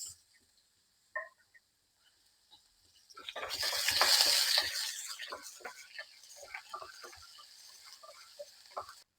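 Chopped onion hitting hot oil with ginger and green chillies for millet (varagu) upma, a brief loud sizzle that swells then settles into a steady crackle with faint stirring clicks.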